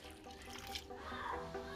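Faint splashing of hot water being poured for bread dough, a soft, brief trickle and slosh at low level with no voices.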